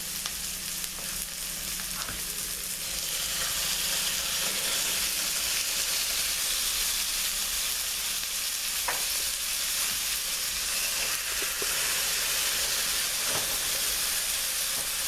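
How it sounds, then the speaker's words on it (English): Pork chops brown in a hot pan, a loud, steady sizzle and spatter that carries on for the whole stretch with occasional sharp pops and light scraping. "we're going to brown them for a little while"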